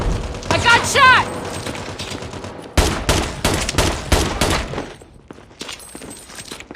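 Video game gunfight with bursts of rapid gunfire, loud close shots clustered in several volleys with short pauses between, and a voice calling out over the shooting.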